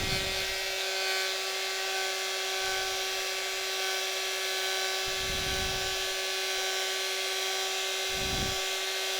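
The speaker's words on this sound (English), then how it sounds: "So I've got my heat gun and just hold it over the piece." A heat gun blows over a piece of polymer clay with a steady, even whirring hum and a faint high whine, with a few soft low thumps underneath.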